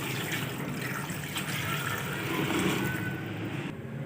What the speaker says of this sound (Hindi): 1 लीटर पानी ऐड करेंगे